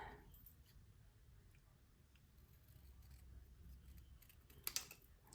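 Scissors snip paper for a handmade card, faint close crunching cuts that build to a couple of sharper snips near the end in a quiet room.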